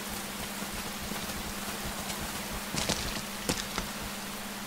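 Rain falls in the PS3 game Rain as a steady, dense hiss that fills the scene, with a few faint taps and footstep-like knocks near the end.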